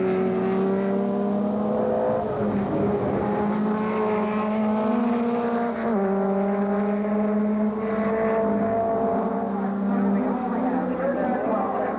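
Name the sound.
Formula B race cars at top speed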